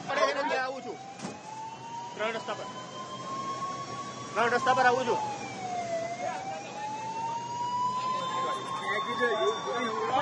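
A wailing ambulance siren rises and falls continuously in the distance near the Air India plane crash site in Ahmedabad, with people talking intermittently over it.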